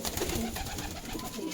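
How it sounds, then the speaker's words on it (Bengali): Pakistani Arshad line pigeons at a pigeon sale give soft, low, repeated coos close by, with faint background chatter from the sale. "আরশাদ লাইনের পায়রা"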